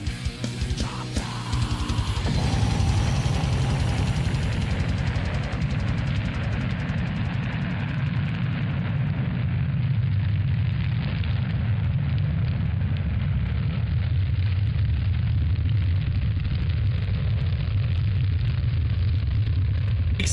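A loud bomb blast opens with a sharp burst, then swells into a sustained, roaring rumble that fills the whole stretch at steady high volume, with no voices heard.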